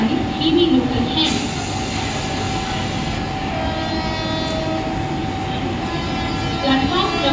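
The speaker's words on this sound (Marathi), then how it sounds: "प्लॅटफॉर्म क्रमांक 2 वर आलेली लोकल 8:06 ठाण्याला जाणारी धीमी लोकल आहे।" Mumbai local train at a Kalyan railway station platform at night, a steady rumbling rail roar that runs the whole time with a faint high tone, while platform announcements play over it.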